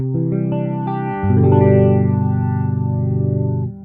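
An electric guitar plays through a boutique amp simulation in AmpliTube 5 with chorus and distortion effects. Sustained chords ring out loud and alone, with a swelling modulated texture.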